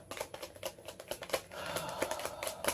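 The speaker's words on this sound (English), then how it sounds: "What I'm going to do now is shuffle for your outcome." Tarot cards being shuffled for a reading, a quick run of crisp, close riffling taps and flicks in an irregular rhythm, with no talk over them.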